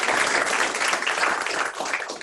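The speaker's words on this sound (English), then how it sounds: "How about a round of applause for all of you?" Applause for new pharmacy students at a White Coat Ceremony, a dense, steady clapping from a large audience filling the whole stretch without talk.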